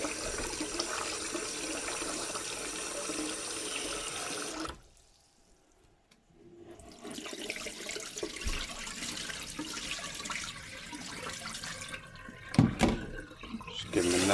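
Potatoes rinsed in water, a close splashing and running-water wash that pauses into near silence, then resumes with sloshing and a few sharp knocks.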